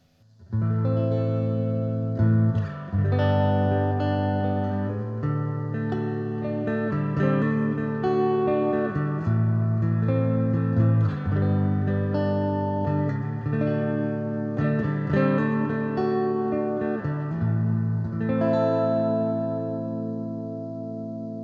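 Electric guitar plays sustained chords and notes through an Eastcoast EC30GR amp with reverb turned up full, drenched in heavy reverb with a washy, shimmering tail, loud and continuous.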